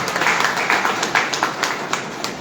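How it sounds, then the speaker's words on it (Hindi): Audience at a Hindi song and poetry event applauds, a short burst of dense clapping with distinct individual claps, steady and moderately loud from a crowd. "उसके लिए तालियां बजाओ"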